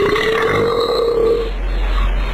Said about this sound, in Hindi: इस पंछी की आवाज ऐसी है जैसे कोई डकार ले रहा हो।